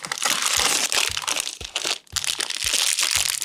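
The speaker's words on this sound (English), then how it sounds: "You hear that crunch?" Loud, close crunching while a vegan mint chip cookie is eaten: dense crackling bites and chews with brief pauses between them and no talk.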